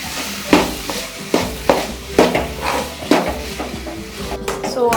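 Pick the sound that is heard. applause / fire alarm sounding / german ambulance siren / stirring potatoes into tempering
stirring potatoes into tempering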